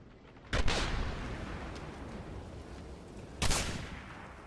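Two loud gunshots from a sniper rifle in the shooter game Singularity, one sharp crack early on and a second about three seconds later, each with a short rumbling tail over low background noise.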